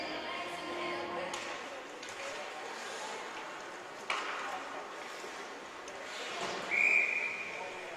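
A referee's whistle sounds once, a short shrill blast near the end, at a U13 female AAA ice hockey game, over arena rink noise with commentary running throughout.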